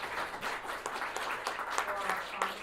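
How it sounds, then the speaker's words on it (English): Attendees at a customer success meetup applaud the event sponsors. A modest crowd claps briskly and continuously, moderately loud, with a faint hum of voices underneath. "So let's have a round of applause"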